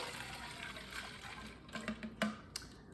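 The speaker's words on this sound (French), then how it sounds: "Je vais juste portionner mon eau ici." Water trickles and splashes while a cup and a half is measured and poured for a sports drink, faint and close, ending in a few sharper splashes and clinks.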